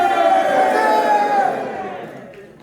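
An audience at a March 1st independence commemoration and essay-contest award ceremony shouts a loud, sustained cheer in unison, the massed voices holding steady before gradually trailing off.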